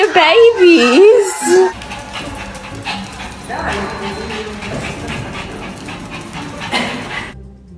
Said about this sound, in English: Are you howling to your babies?